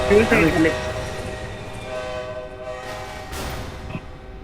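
A train in the Roblox video game sounds a horn loudly near the start, a stack of steady tones that then carries on more faintly over the rumble of the train, with a voice talking over it.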